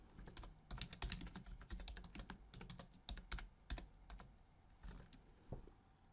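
Rapid typing on a computer keyboard, crisp clustered key clicks in bursts with short pauses, close and clear with no talking.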